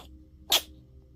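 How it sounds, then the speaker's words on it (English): A cat gives one short, sharp sneeze close by, a single burst against a quiet indoor background. "Did you have a little sneeze there?"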